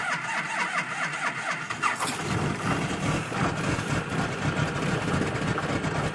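A 1995 Dodge Ram 2500 with a 12-valve Cummins diesel cranks and fires in the cold, starting about two seconds in and settling into a loud, rough, clattering idle with uneven knocking pulses close by.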